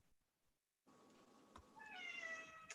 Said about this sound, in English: my cat is really crying at me